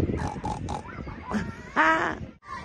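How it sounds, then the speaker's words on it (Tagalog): Pig grunting at a farm, a short series of snorting grunts near the microphone amid outdoor noise. "Hala, baboy yata yun oh"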